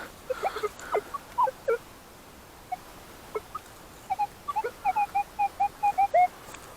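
Quasar ARM metal detector in a ploughed field giving a run of short, tinny whistling beeps, sparse at first then a quick steady series of pitched tones near the end, fairly faint with no talking.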